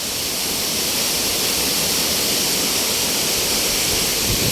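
Steady roar of a waterfall at Telaga, a loud continuous rushing wash of falling water with no breaks, heard up close.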